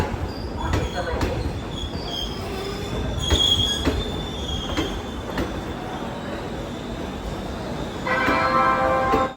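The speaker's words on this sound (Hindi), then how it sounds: "एक एक्सप्रेस आ रही है टाटा नगर से थाना की ओर चलने वाली, अभी ये हाजीपुर जंक्शन में आ गई है" An express train running from Tatanagar rolls into Hajipur Junction in Bihar, its wheels squealing and screeching in bursts over a steady rumble, close and fairly loud, with faint speech in the background.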